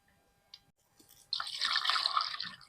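Goat tripe is rinsed in water in a tub. A faint drip and splash comes first, then a louder, steady sloshing and pouring of water, close by.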